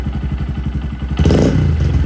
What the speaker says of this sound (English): Get a little rev here.